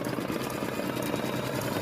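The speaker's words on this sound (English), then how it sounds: "ready to do the tack down stitch around my material" An embroidery machine runs a tack down stitch around applique material, making a steady, continuous mechanical hum and whir close by, with no pauses.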